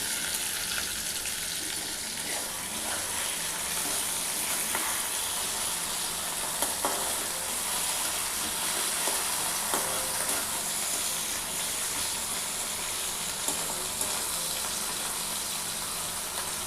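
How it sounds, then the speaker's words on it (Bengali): Food frying in a pan for a mildly spiced curry, a steady close sizzle with faint stirring and small pops throughout, no talk. "আর এখানে আমি এটা ভেজে নিচ্ছি"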